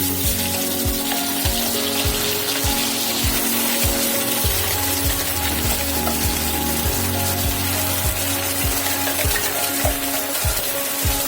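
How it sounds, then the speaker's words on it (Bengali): Ground spice paste hitting hot oil left from frying potatoes, a loud continuous sizzle held close by, with a low rhythmic ticking running underneath and no talking. "আলু ভাজা তেলে আমি মশলাটা দিয়ে দিচ্ছি।"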